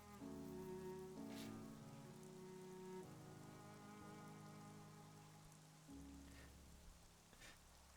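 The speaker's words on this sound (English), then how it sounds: "And we're all getting absolutely drenched by the rain." Rain falls steadily in the video game Xenoblade Chronicles 3, a soft continuous patter under tonal game music, with no talking.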